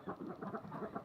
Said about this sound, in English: The geese are very worked up right now.